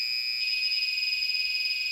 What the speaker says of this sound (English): our alarm is changing pitch and tone